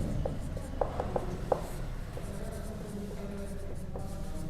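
An answer is written on paper with soft, steady scratching strokes and a few sharper taps, close and quiet against a low room hum.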